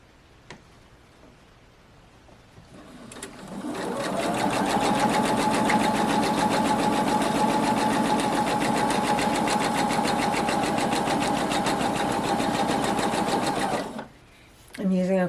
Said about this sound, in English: I'm just sewing on both sides of this line now.